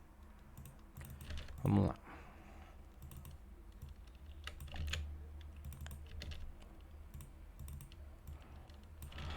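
Typing on a computer keyboard while filling in spreadsheets for a cognitive psychology experiment. Soft, scattered key clicks run throughout at a faint level, with one louder thump near the start and a brief spoken phrase.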